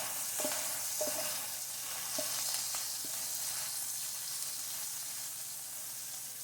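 Vegetables sautéing in a pan give off a steady, fairly quiet sizzling hiss, with a few light clinks of a utensil early on.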